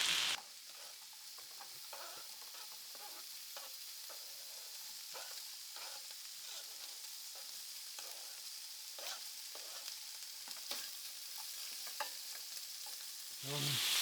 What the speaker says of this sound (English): So I'm just stirring it a bit,